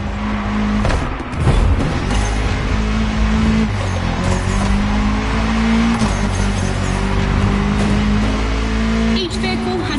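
A rally car powers along toward a dirt route, its engine a loud, steady drone with gliding pitch changes and a brief surge near the start, holding close throughout.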